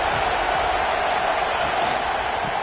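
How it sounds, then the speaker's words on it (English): A football stadium crowd roars in a steady, dense wash of noise with no breaks, loud and continuous throughout. "Listen to the crowd energy here in the early going."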